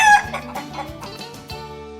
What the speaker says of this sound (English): You gotta come by, see all these chickens